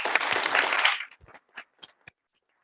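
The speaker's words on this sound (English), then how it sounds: "let's give them a round of applause" Audience at a Roseburg Public Schools board meeting applauding board-certified teachers, a brief burst of dense clapping lasting about a second, then a few scattered final claps trailing off into quiet.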